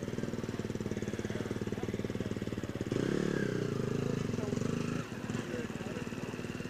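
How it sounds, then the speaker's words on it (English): A four-stroke Husqvarna motorcycle engine idles with a steady rapid thumping at an extreme enduro race, then revs up briefly before dropping back, close by with voices talking underneath. "just turned up on the new 4-stroke Husqvarna"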